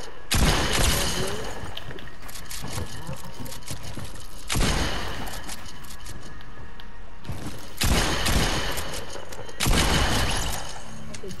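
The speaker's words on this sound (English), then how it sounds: "AK machine gun." AK machine gun fire in the video game Fortnite, repeated sharp bursts of rapid shots every few seconds over a dense, busy game background with faint talk.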